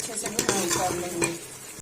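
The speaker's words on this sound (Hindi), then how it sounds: "अच्छे से हमने भून लिया।" Ground masala for kaddu gosht fries and sizzles in a pot while a spoon stirs it briskly, with quick clattering scrapes against the metal, close and brief, and no speech.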